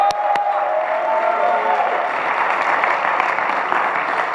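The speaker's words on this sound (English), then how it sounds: "give them an awesome hand clap for College Day today" Church congregation applauding and cheering for College Day during a Sunday service, a steady dense wash of hand clapping from a large crowd that holds for several seconds.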